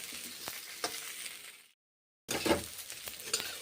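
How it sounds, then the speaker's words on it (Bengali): Salty-spicy pitha rice cakes fry in ghee, a steady crackling sizzle with scattered pops and stirring scrapes, broken by a brief silent gap before the frying resumes. "কি সুন্দর করে পিঠেগুলো ভেজে নিচ্ছি"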